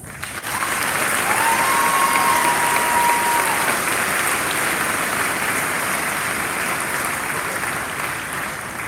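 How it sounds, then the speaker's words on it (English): A large audience at a high school graduation applauds the honor graduates, a loud, dense and sustained roar of clapping that fills the whole stretch evenly, with a faint whistle near the start. "Please join me in applause one more time for our honor graduates."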